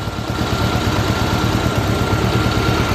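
A 1986 Honda Goldwing GL1200 motorcycle engine idles steadily, a dense continuous low rumble with a fine rapid pulsing, close and loud throughout with no talking.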